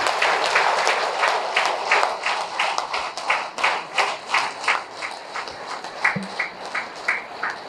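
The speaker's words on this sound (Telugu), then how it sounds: "గట్టిగా క్లాప్స్" An audience at a spiritual vegetarian rally event in Tiruchanur applauds loudly, a dense run of rhythmic claps that turns into more regular unison clapping near the end.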